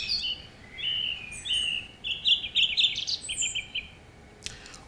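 A thrush sings in short, bright phrases of whistled notes and chirps, fairly clear against a quiet outdoor hiss. Phrases come in quick, uneven bursts that pick up in the middle and end with a faint rustle.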